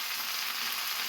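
Okra bhaji frying in a pan over medium heat, giving a steady, even sizzle with no pauses, close and alone with no one talking.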